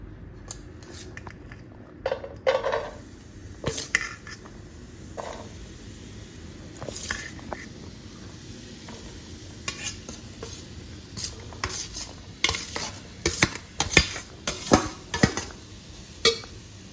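Chana dal tipped into a pot and stirred with a utensil, giving scattered scraping and clinking strokes that grow busier and louder toward the end over a low, steady background rumble.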